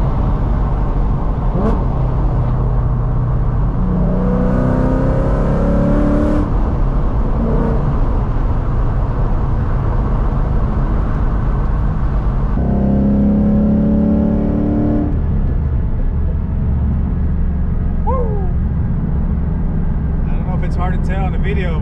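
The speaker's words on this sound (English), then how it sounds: "the Corsa Sport catback uses that really like a deep roar" An S550 Mustang GT fitted with a Corsa Sport catback exhaust revs up and settles back in repeated loud pulls, a deep, rumbling roar close by with the engine droning between blips.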